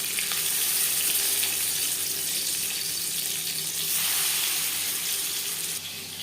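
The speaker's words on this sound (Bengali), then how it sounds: "পরিমাণ মতো সর্ষার তেল দিয়ে দেব মাছ" Fish frying in hot mustard oil, a loud, dense, continuous sizzle heard up close that holds steady throughout and eases slightly near the end.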